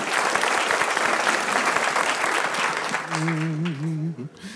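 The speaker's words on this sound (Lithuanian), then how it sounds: "Plojimai Antanui." A television game show studio audience claps loudly and steadily for a contestant, the dense applause fading out toward the end as a brief musical sting sounds.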